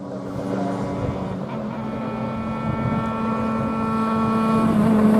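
A superkart engine at a Queensland Raceway race rises in pitch as it passes along the track, a buzzing, tonal whine growing steadily louder toward the end amid wind noise.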